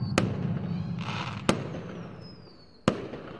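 Fireworks in the visual novel game Angels with Scaly Wings: three sharp bursts spaced over a few seconds, a whistling rise trailing after one, over a low rumbling background.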